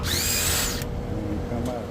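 Power drill backing a screw out of a Goodman AC unit, a close whining spin of under a second, a pause, then a second brief burst, with a voice talking over it.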